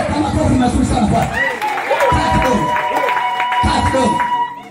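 A church congregation applauding, a broad, loud wash of crowd clapping and cheering that swells and eases in waves, with voices calling out through it.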